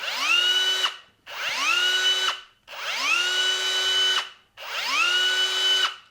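A cordless drill whirs steadily in four bursts, each spinning up quickly and holding an even pitch before stopping, close and fairly loud.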